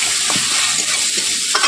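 Turmeric and chili powder mixed into water hit a hot wok for a fish curry, giving a loud close sizzle with stirring scrapes throughout.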